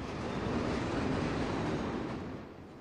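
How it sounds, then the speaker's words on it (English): A freight train hauling boxcars and tank cars rolls past in a steady, moderately loud rumble with faint rail clatter, fading slightly at the end, with no voices. "this freight train is pulling tank cars"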